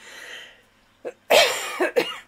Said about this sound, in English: Excuse me, coughing, it's the dry atmosphere.